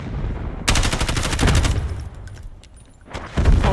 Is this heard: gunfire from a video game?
yes